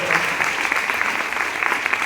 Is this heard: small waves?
no